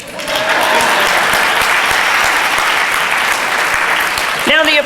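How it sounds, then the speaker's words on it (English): A conference audience applauds a motivational speaker, a loud, sustained wash of many hands clapping that holds steady for several seconds before a voice cuts in near the end. "And I will wait for the applause."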